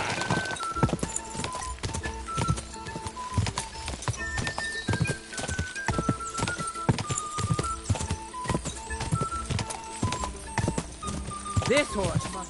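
Rapid, rhythmic clip-clop of horse hooves, close and continuous, with whinnies and shouting voices mixed in over the hoofbeats.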